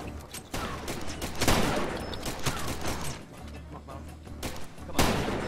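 Gunfire in the video game Far Cry 2 during a nighttime assault: dense bursts of shots and booming blasts crackle through the whole stretch, loud and close, with brief commentary under the shooting.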